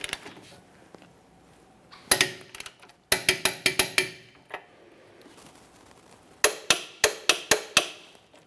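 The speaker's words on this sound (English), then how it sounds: "let's torque these to 87 foot-pounds" A torque wrench tightens the rear shock bolts on a 2010-2013 Kia Forte Koup to 87 foot-pounds, sharp close metallic clicks arriving in quick rhythmic bursts of four to six, separated by quiet pauses.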